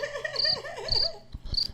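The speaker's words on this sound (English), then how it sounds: "Play that crickets on that." Crickets chirp in bright, repeated pulsing trills, a loud close sound effect standing alone with no talk.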